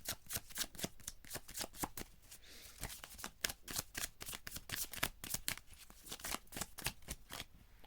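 Close, rapid riffling and soft slaps of tarot cards being shuffled, in repeated bursts of crisp clicks at a quiet level, with no voices.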